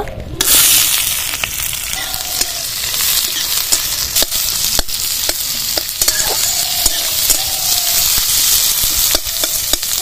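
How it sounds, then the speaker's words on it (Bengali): Chopped onion and green chili frying in mustard oil in a wok over a lit stove, a loud continuous sizzle and hiss with scattered pops and stirring scrapes, close up and without speech. "পেঁয়াজ লঙ্কা কুচিটা এবার তেলে ছেড়ে দেব।"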